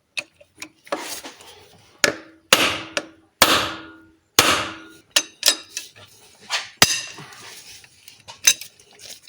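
A gearbox oil fill-up plug on an Alfa Romeo is tapped loose with a metal tool, giving a string of sharp, close metallic knocks and clinks in an irregular rhythm with quiet gaps between them.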